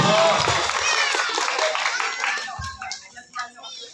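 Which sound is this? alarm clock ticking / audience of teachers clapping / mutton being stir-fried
audience of teachers clapping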